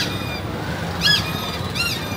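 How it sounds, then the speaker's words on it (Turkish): Car horns squeal out in Bangladesh traffic: two short, high-pitched honks about a second apart, loud and close over a steady hum of road noise. "Kornalara bakın ya"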